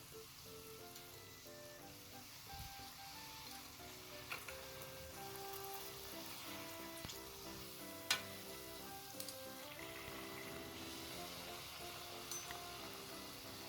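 Rose cookies (achu murukku) fry steadily in hot oil, a continuous close crackling sizzle with scattered sharper pops and faint tonal background music running underneath throughout.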